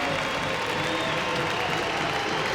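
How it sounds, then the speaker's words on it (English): Sustained crowd applause fills an ice hockey arena after a Sheffield Steelers versus Manchester Storm match as players salute supporters and leave the ice, a steady, dense wash of clapping and crowd noise with no pauses. "They're going to go and applaud their supporters and make their way off the ice."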